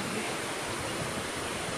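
Steady, loud rushing water gushing from a large hole in a broken pipe, a dense continuous hiss like water under pressure, with no voices.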